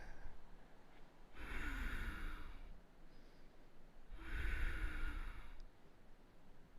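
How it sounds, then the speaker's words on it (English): Two long, deep breaths during a yoga stretch, each a slow airy inhale or exhale lasting about a second and a half, close and clear with quiet pauses between. "And breathe into it"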